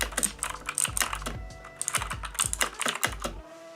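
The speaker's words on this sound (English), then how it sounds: "So the keyboard itself is very mechanical." Fast, close typing on a mechanical keyboard, a dense run of crisp, clacky keystrokes with no talking.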